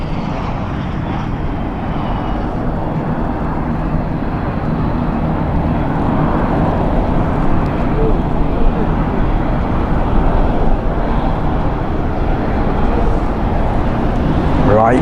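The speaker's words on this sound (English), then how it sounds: "we'll bring you the F-16 coming in." An F-16 fighter jet roars in at a military air exercise at RAF Waddington, a loud, continuous engine rumble that swells slightly as it approaches.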